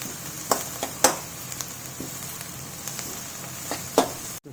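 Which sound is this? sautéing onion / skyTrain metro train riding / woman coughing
sautéing onion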